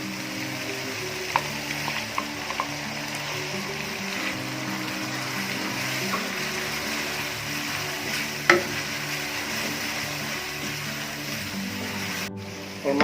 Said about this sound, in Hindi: मसाला हमारा अभी तकरीबन फ्राई हो गया है।